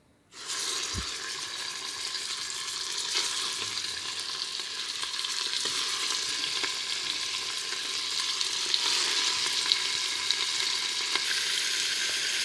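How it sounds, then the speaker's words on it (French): Beef hits hot oil and melted butter in a Cookeo multicooker and begins browning, setting off a sudden burst of sizzling that settles into a steady, bright crackle with scattered sharp pops, fairly close. "Le cookéo a bien chauffé, on va commencer à mettre notre viande à colorer."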